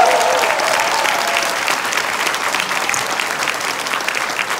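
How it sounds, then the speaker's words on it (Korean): Sustained applause from the audience at a Korean business seminar closing in a Hyatt hotel, loud dense clapping that fills the whole stretch. "정말 우리 감사의 큰 박수 한번 부탁드릴까요?"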